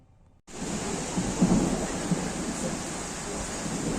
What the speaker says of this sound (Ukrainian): А ось і дощ, про який я вам говорила.